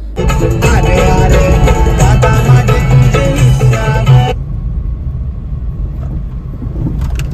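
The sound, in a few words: car engine running before being switched off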